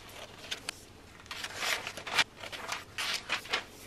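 Scissors snipping through a paper sewing pattern for McCall's 7974, heard as a close, quiet run of short crisp cuts and rustles that come in uneven clusters.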